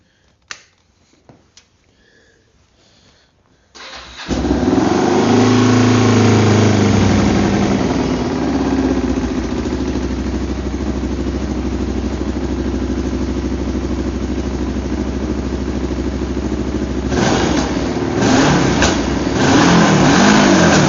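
A Kawasaki Vulcan 500 motorcycle with a leaking fuel petcock starts after a few soft clicks, then idles loud and close with a rough, uneven throb and occasional revs toward the end.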